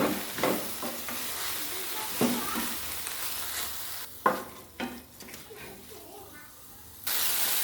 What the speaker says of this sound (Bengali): এই শাকের মধ্যে দিয়ে দেবো একটুখানি লবণ আর দিয়ে দেবো এক চামচি হলুদ গুঁড়ো আর ভালো করে মিশিয়ে দেবো